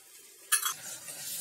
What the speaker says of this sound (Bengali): এখন এই মটরগুলো দিয়ে দিলাম, কাঁচা মটর।